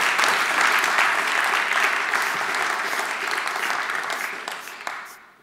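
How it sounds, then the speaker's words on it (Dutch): Audience applause at a Tech Talk Late Night event on internet freedom, a dense, steady wash of many hands clapping close by that holds for several seconds and then thins and fades at the end. "een hartelijk applaus voor SIDN en Christian Hessels."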